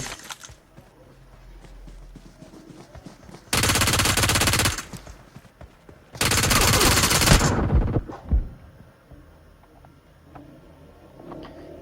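P90 submachine gun in PUBG Mobile rattling off two sustained automatic bursts, each lasting more than a second, loud and close against quiet game ambience.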